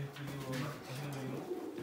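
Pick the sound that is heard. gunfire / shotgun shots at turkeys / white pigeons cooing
white pigeons cooing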